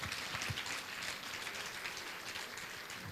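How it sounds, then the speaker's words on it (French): A room full of people clapping for members of an organizing committee at a women's cabaret event, a soft, even wash of applause throughout a short stretch. "Oui, on peut les applaudir."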